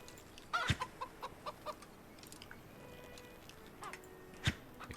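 A chicken in the medieval game Medieval Frontiers clucks in a quick run of short, even pecks, with a couple of louder sharp squawks breaking through the quiet outdoor ambience.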